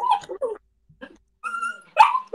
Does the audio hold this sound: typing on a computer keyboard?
no